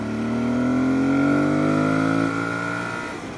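A 2022 Aprilia Tuareg 660 motorcycle accelerates in third gear, its engine note climbing steadily in pitch, loud and close, before easing off near the end.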